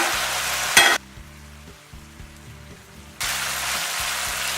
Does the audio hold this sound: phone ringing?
no